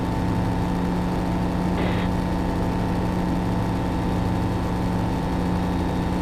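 A small airplane engine runs after an emergency landing on a flight from Oshkosh 2019 to Idaho, giving a steady, even hum that holds without a break, with no voices over it.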